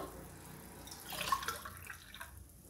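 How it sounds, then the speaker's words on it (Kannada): Water poured into a pot holding basmati rice for a kabuli chana pulav, a short splashing trickle that swells in the middle and then fades, with no voices. "ಇವಾಗ 1 ಮೆಷರ್ಮೆಂಟಷ್ಟು ಅದಕ್ಕೆ ನಾನು ನೀರು ಹಾಕ್ತಾ ಇದ್ದೀನಿ"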